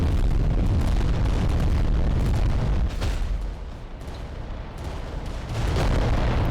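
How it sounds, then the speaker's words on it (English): Volcano cannon shots explode in the Adeptus Titanicus: Dominus video game, producing a dense, continuous roar of heavy booms and rumbling blasts that stays loud throughout, dipping briefly in the middle before swelling again. "Blocking our volcano cannon shots."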